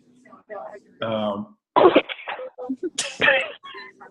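A person coughs and clears their throat in short bursts, close up, mixed in with brief speech.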